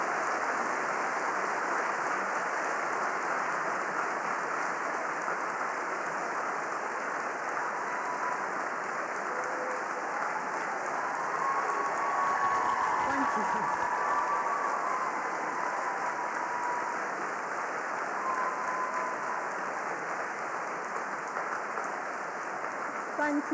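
Sustained applause from an audience at an award acceptance ceremony, a steady, dense wash of clapping that holds evenly for over twenty seconds with no voices over it.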